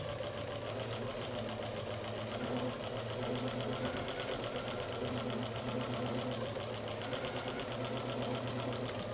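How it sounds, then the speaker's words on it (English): A sewing machine stitching around the edge of a baby's shoulder rug, a fast steady rapid needle clatter with a low motor hum, continuous and close, no voices. "you can start sewing from the first pin all the way around"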